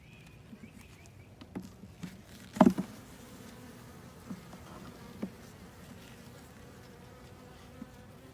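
Honey bees from a wild swarm buzz in a bee yard as a steady low drone, with a few louder knocks and a brief thump partway through.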